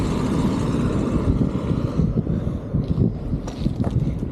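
Strong gusting wind on the Fuerteventura coast in the Canary Islands, loud and constant as it buffets the microphone with a heavy low roar, steady across the whole moment.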